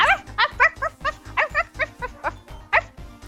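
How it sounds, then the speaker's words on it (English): Rapid, high-pitched dog barks and yips repeat in a quick steady rhythm, close and synthetic-sounding, like a small dog yapping nonstop, in the video game Dramatical Murder. "Stop barking, Ren."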